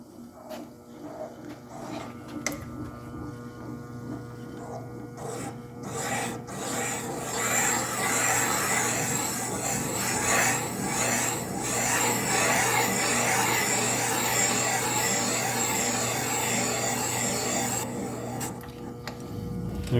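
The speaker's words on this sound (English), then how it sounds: "Check our spindle speed, our RPMs, and then we'll turn it on and cut." A valve seat cutter cuts into the cylinder head of a Subaru EJ25 SOHC engine. It makes a continuous rasping, grinding scrape that builds after a few seconds and holds steady, close by, with no talking.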